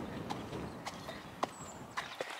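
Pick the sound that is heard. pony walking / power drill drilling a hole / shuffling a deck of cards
pony walking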